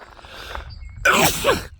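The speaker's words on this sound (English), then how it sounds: "I'm going to sneeze because there's a lot of plants out here." A single sneeze, a short intake followed by a sharp, loud burst close to the microphone, with no other sound around it.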